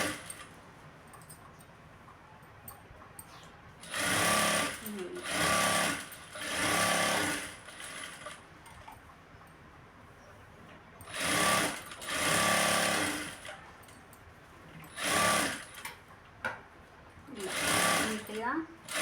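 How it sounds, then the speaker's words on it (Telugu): A sewing machine stitching the lining of a blouse runs in about seven short, loud bursts of rapid needle clatter, with quieter pauses between them. "స్టిచ్చింగ్ చేస్తున్నాను"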